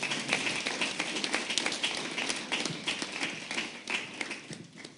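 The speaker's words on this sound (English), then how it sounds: "why don't we give an extra round of applause for all the speeches that preceded this" An audience at a program on restorative justice gives a sustained round of applause for the preceding speeches, many hands clapping in a thick, busy patter that holds steady for several seconds before easing slightly.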